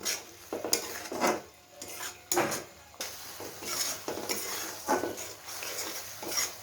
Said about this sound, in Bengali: মশলাটা আমার সুন্দরভাবে কষানো হচ্ছে।